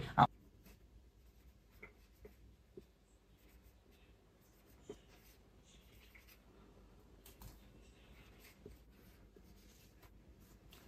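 Faint scattered pen or chalk strokes during a class 8 geometry lesson, with soft intermittent scratches and ticks in a quiet room.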